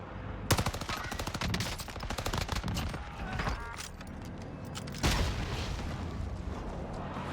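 A Krosnik rifle with a 60-round magazine fires in a video game: a long rapid automatic burst, a short pause, then a second sustained burst, loud and close with echoing tails and no talking.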